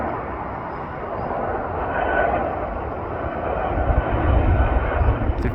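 An airliner comes in to land at Manchester Airport, heard from the south side viewing park as a steady, broad engine roar that swells slightly toward the end, loud and continuous with no talk.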